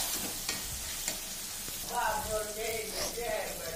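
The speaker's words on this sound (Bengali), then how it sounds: "তারপরে নুন হলুদ দিয়ে দেখো কষিয়ে ফেললাম।" Ghugni masala with salt and turmeric sautéing in a pan, a continuous close sizzle with scraping stir strokes and brief bubbling crackles.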